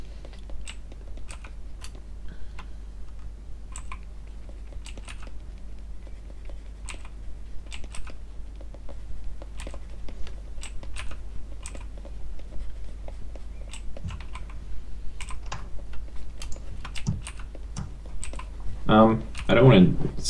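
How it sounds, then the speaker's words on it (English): Rapid, irregular clicks of someone typing on a computer keyboard continue steadily at close range throughout, with a brief burst of other sound near the end. "I don't want to smash away on my keyboard again"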